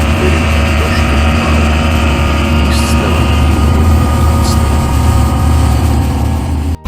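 The engine of a blue cartoon tractor on a bridge construction site runs in a loud, continuous low drone that holds steady for nearly seven seconds without pause.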